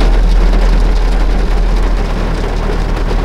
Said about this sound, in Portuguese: Mó chuva, galera.